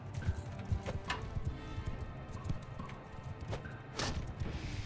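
Horse hooves clop in Mount & Blade II Bannerlord, a rapid irregular run of thudding hoofbeats, close and fairly loud, mixed with faint battle noise and brief clanks.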